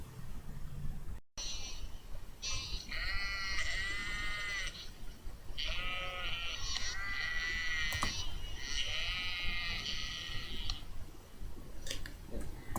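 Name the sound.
sheep bleating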